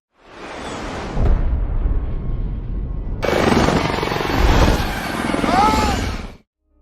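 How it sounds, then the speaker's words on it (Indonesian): A film helicopter is destroyed by another helicopter. Heavy rotor rumble mixes with bursts like gunfire and rushing whooshes, staying loud and dense throughout the scene. "helikopter yang mereka tumpangi harus hancur oleh helikopter lainnya"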